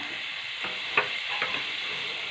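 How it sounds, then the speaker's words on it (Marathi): Garlic sizzles in hot oil in a pan for a tempering, a close, steady frying hiss with a couple of brief crackles and no talk. "आता तेल पहा छान असं तापलं होतं तडके पॅनमधलं आणि त्यामध्ये मी लसूण घालून घेतलेलं आहे"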